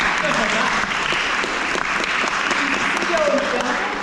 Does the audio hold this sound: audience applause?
yes